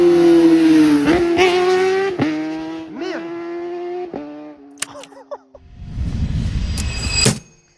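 A 2025 Kawasaki ZX-4R full carbon motorcycle engine revs hard and high, climbing and dropping through several loud, close throttle blips, then idling briefly before a rough, noisy burst of wind and road roar.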